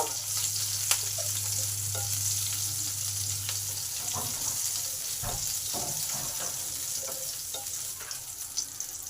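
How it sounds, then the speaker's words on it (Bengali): Chopped garlic sizzles with cumin and chili in hot oil, a steady close crackle with a low hum underneath and several sharp stirring scrapes midway. "রসুন কুচিটা আছে সেটা দিয়ে দিলাম এই রসুনটাকেও একটু লাল লাল করে ভেজে নেব"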